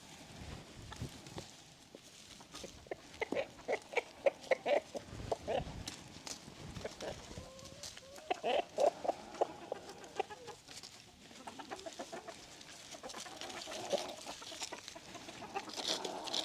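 Leghorn chickens cluck and chatter around a homestead coop, scattered short clucks and squawks repeating throughout, moderately close, with faint other farm noise.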